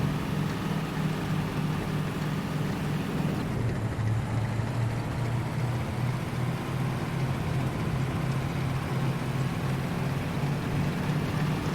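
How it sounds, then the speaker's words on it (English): A Sherman Firefly tank's engine runs steadily while the vehicle drives, a continuous low droning rumble with a slight shift in tone partway through, loud and alone without voices. "I'm just listening to the engine. When it sounds about right, that's when I'm upshifting."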